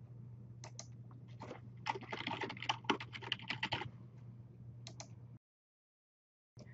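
Typing on a computer keyboard while building a Blackboard course menu: a steady run of close, quick key clicks with short pauses, then a couple of isolated taps before silence.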